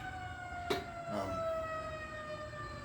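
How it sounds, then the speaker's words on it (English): Emergency vehicle sirens sound at a steady pitch from a distance, moderately loud over a low rumble of traffic, with a couple of sharp knocks nearby and no talking. "I'm guessing you can hear the sirens about to fly by."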